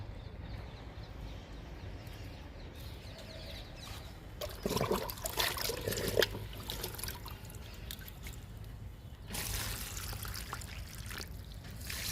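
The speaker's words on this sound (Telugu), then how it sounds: "రెండు మొగ్గులు పోస్తున్నా మునగ మొక్కకి ఇచ్చేద్దాము లిక్విడ్ని" Liquid fertilizer is poured from a small container onto the base of a drumstick (moringa) plant in a garden, with a soft trickling splash that swells briefly in two bursts over a steady outdoor background hiss.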